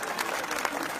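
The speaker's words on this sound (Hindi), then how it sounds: "जोरदार तालियां बजाइए।" Applause from a Hindi comic poetry gathering (hasya kavi sammelan) audience, a short burst of dense clapping with broadband texture, moderately loud and steady throughout.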